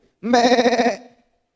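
A human voice imitates a goat's bleat, one wavering, nasal call about a second long, close and alone.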